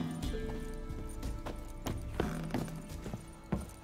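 Horse hooves clip-clop in The Witcher 3, sounding as a series of sharp, close, uneven hoofbeats over a low ambient background.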